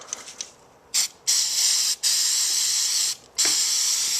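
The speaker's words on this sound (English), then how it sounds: "shoot some carb spray and some compressed air down in here" Carb cleaner sprays into a motorcycle carburetor in several sharp hissing bursts of about half a second to a second each, separated by brief pauses, close and alone.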